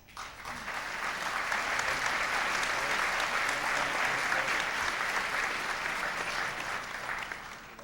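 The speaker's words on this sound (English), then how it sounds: "Please give your applause for Carol Grant." Audience applause at the Miss California USA 1997 pageant, swelling in over the first second into a long, even roll of clapping that fades slightly at the end.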